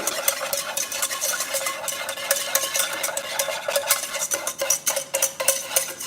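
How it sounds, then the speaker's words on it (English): A whisk beats flour into a roux in a pan, giving rapid, continuous metallic scraping and clicking strokes in a busy, steady rhythm, close and fairly loud. "Okay, we gotta whisk this together."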